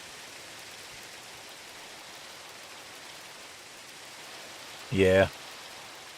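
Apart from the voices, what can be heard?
rain in a video game, no thunderstorm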